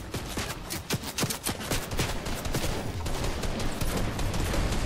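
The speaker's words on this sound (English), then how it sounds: "Of course I'm getting shot at from the bush." Fortnite gunfire: a steady stream of sharp shots cracking at an even rhythm for several seconds, loud and close, with no voices over it.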